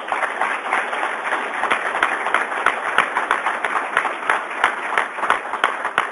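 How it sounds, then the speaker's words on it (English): A seated audience claps for a round of applause at a National Weather Service meeting, dense and steady for about six seconds, with sharper individual claps scattered through the wash. "So Charlie deserves a round of applause"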